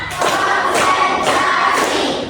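A classroom of students claps in a counted pattern, loud close bursts of hand claps arriving in three distinct groups about a second apart.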